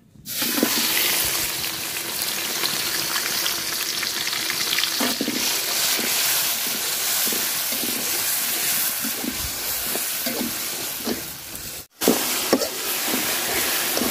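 Garlic, chili and onion hit hot oil in a pan for a leafy greens dish, giving a steady close sizzle and hiss throughout with occasional stirring scrapes and a brief dip near the end.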